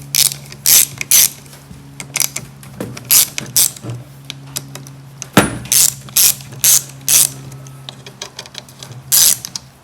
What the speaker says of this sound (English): let's go ahead and take this carburetor apart.